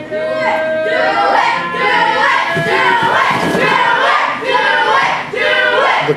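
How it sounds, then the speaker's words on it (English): Wrestling event crowd cheering and yelling loudly and continuously, with voices chanting and shouting over a dense roar of the audience. "Listen to the crowd!"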